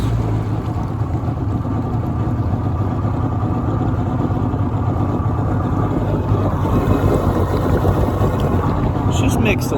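A Kawasaki ZXI 900 jet ski, revived after a stuck engine and running slightly rich, idles with a steady, loud rumbling drone that fills the whole stretch, with wind buffeting the microphone.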